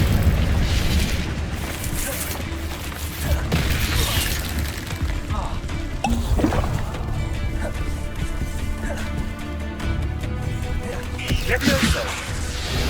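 Incendio fire spells are cast in Hogwarts Legacy, with repeated booming bursts and crackling blasts over a dense, continuous layer of game combat noise and music.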